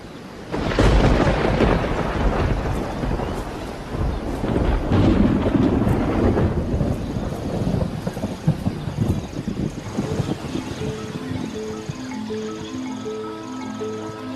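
Summer thunderstorm in Kruger, a long heavy rumble of thunder with wind and rain that gradually fades as soft music rises beneath it.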